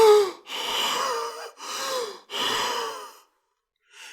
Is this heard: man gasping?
yes